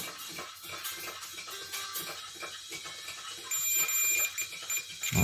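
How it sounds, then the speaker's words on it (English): A continuity tester beeps repeatedly while probing a blown Black and Decker circuit board, the tones short, bright and steady, with a denser run of beeps toward the end. "Let's just check for continuity everywhere."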